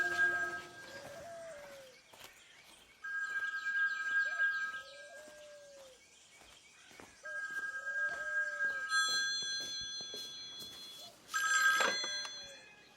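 A telephone rings in repeated bursts of electronic trilling in a home with a garden, separated by short pauses, with faint bird chirps in the background.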